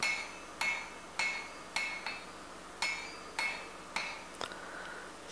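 Blacksmith's hammer striking hot steel on an anvil while squaring and knocking off corners at a dull red heat, sharp ringing blows spaced about half a second to a second apart, close and alone.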